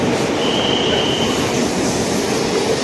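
Loud, steady rumble and roar from inside a moving crowded commuter train, with a thin wheel squeal rising briefly above the constant rattle.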